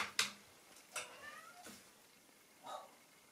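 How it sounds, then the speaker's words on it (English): A cat meows several times from behind a closed door, each cry muffled and fairly faint, spaced about a second apart in an otherwise quiet room. "Can you hear my cat outside the door?"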